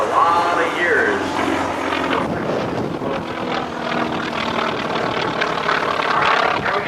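An aerobatic propeller airplane drones from a distance during a flat turn at an air show, its engine tone shifting under steady outdoor wind while people talk nearby.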